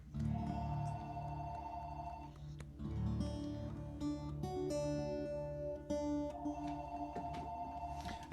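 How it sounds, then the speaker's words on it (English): A phone ringtone plays repeatedly with electronic tonal beeps and chimes, fairly quiet and steady, no voices. "That's my phone ringing."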